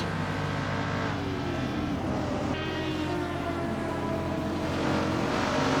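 Race cars in an AI-driven racing video game roar in a steady, layered engine drone with shifting pitch, several cars overlapping continuously at close range without any talk.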